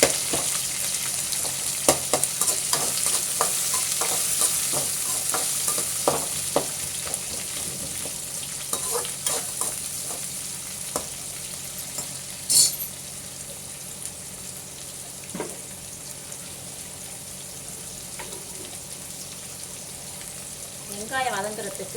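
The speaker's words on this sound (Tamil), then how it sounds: "வெங்காயம் பொன்னிறம் வர அளவுக்கு வதக்கி எடுத்துக்கணும்" Chopped onions sauté in a pan for fish curry, giving a continuous bright sizzle with repeated scraping stirs and clicks of a spatula, fading slightly over time, with no voices.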